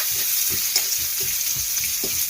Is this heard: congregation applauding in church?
no